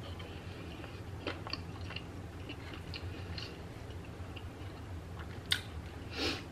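Someone eats a buffalo chicken quesadilla with crunchy celery, making soft, close chewing and crunching clicks at an uneven pace, with a sharper bite near the end over a faint background hum and no talking.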